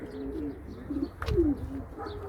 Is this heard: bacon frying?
no